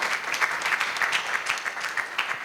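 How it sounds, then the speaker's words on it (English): Steady applause from a summit audience honoring finance and investment panelists as they pose for a photograph, a dense, even patter of many hands filling the room without a break. "A round of applause as they take their photograph"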